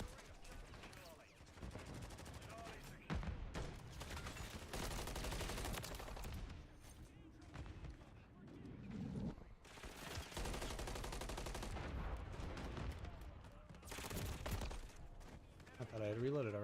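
Video game gunfire bursts out in dense, loud volleys across the whole stretch, shots overlapping with rapid automatic fire, while a person talks over the action throughout.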